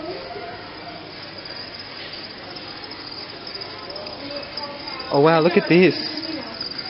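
Steady high chirping of crickets in a box drones continuously, close by, while a person briefly speaks near the end.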